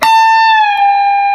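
A single sustained electric guitar note from a solo, held bent and then released so the pitch glides smoothly down partway through and rings on alone, loud and close.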